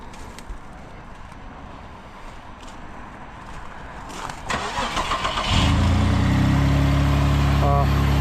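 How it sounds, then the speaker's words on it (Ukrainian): A car's engine cold-starts at a used-car lot in Samar: a cranking buildup turns into a loud, steady idle rumble that holds to the end, after someone talks over the quieter start. "Завелась машина нормально"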